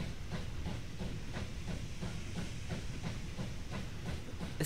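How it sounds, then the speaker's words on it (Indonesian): A steam locomotive in a video game chugs steadily with rhythmic hissing puffs over a constant low rumble, moderately quiet and even throughout. "Pokoknya aku naik kereta."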